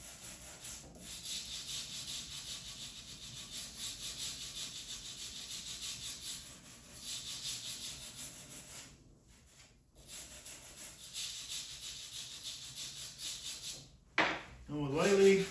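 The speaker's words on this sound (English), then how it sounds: "I got a steel brush. And all I'm going to do is just go in and lightly scratch that" A steel brush lightly scratching dried putty on a wooden coffee table top, a steady dry rubbing scrape in long close strokes with brief pauses, ending in a few louder handling knocks.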